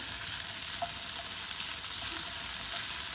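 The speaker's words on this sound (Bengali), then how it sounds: "বাটার দিয়ে একটু ক্যারোটের ক্যারোটটাকে একটু রোস্ট করে নিচ্ছি" Carrots roasting in butter in a pan for a lamb roast dish give off a steady, close sizzle with constant fine crackle and a few faint scrapes, with no talking.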